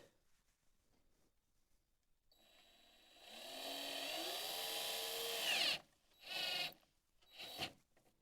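An electric drill driving PC screws whirs up and runs steadily for a few seconds, stops, then gives two short bursts, close and fairly loud.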